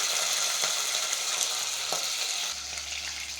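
Curry leaves and green chillies frying in hot oil for uppittu, a steady bright sizzle with crackling pops and a spoon stirring now and then, loud and close.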